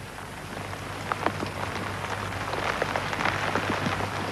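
Heavy rain pours down steadily on a 1984 miners' strike picket line, a dense, continuous hiss with scattered sharper drops and a low hum beneath, no voices.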